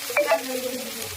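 Onion paste frying in a pan, with a brief soft sizzle and a couple of quick stirring scrapes over a low, steady hiss.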